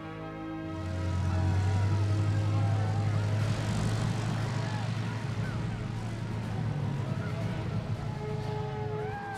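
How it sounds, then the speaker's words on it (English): A propeller airplane drones steadily overhead during a feature film shoot among desert dunes, its engine swelling in after a quiet start and holding loud throughout, with voices and background activity mixed faintly underneath. "So the plane disappears behind the dune"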